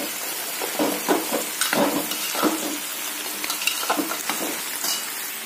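A pumpkin, spinach (pui shak) and prawn curry is stirred in a pan, giving steady close sizzling with repeated soft scrapes and clatters of a spoon; no talking.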